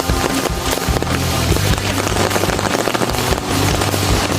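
Heavy rain pours steadily on a muddy fishing spot, a dense, loud, close wash of drops and patter that continues without pause.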